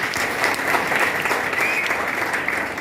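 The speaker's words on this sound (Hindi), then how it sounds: "अच्छा, कुछ लोगों की ताली बज रही है" Steady audience applause from a crowd at a network marketing event in a hall, dense continuous clapping held at an even level throughout, with no talking over it.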